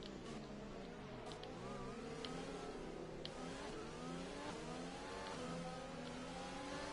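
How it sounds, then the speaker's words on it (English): Pack of F1 cars in a racing video game, set at the Brazil Grand Prix, accelerating together after bunching up, with a dense overlapping whine of engines rising in pitch, steady and close throughout. "Everyone bunching up and then accelerating again there was a bit odd"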